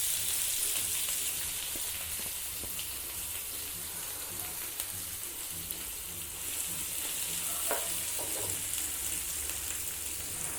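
Chopped large onions fry in oil with lentils for a vegetable paniyaram batter, making a continuous soft hiss of sizzling with faint stirring clicks throughout and no talking.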